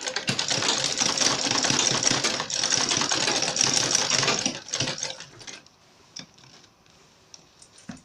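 Sewing machine hemming the end of backpack webbing, a fast steady run of stitches for several seconds, then a few short bursts and clicks as it stops.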